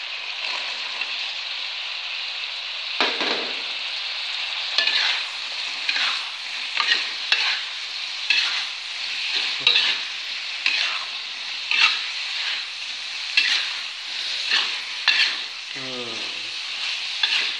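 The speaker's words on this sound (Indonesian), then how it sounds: "Sekarang kita masukin tempe ya" Tempeh fries in hot oil in a pan, a loud continuous sizzle broken by rhythmic scraping strokes of a spatula stirring it.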